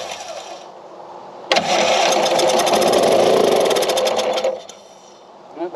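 A Craftsman LUV riding mower engine cranks and fires up on carburetor cleaner, catching abruptly and running loud and steady for about three seconds before dying back down to quieter sound.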